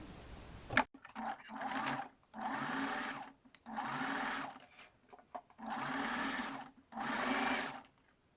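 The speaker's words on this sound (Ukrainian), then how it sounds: "І тепер прокладаю другу строчку з лиця." A sewing machine runs a seam on a bra, sewing the second topstitching line from the right side over an attached elastic band: four steady, moderately loud bursts of stitching separated by short pauses, with no talk.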